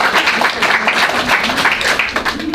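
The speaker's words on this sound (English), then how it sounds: "Round of applause." An audience applauding at a children's historical monodrama performance, with dense, steady clapping that is loud and close and lasts throughout, a voice faintly mixed in.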